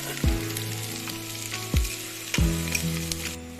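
Onion, peas, coriander and mint leaves fry in a pan with a strong, continuous sizzle, while three ringing scrapes of stirring come at uneven intervals, close and clear, with no speech.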